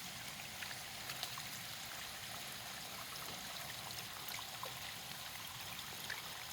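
Water overflowing from a garden pond and spilling over rocks, a faint steady trickling babble heard continuously at some distance with no one talking.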